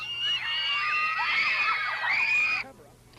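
A large crowd of young fans scream in high, piercing, sustained shrieks at the arrival of New Kids on the Block in Toronto, loud and continuous before cutting off abruptly near the end.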